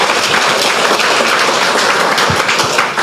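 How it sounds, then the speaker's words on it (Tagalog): Congregation applauding at a church service, a broad, steady wash of clapping that holds evenly from start to finish, with no voices standing out. "Malakas sa palakpak para sa Panginoon."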